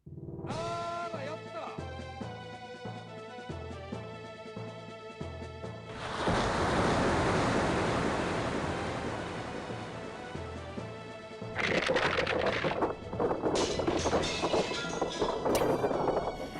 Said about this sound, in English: that's the sound the dam makes when you break it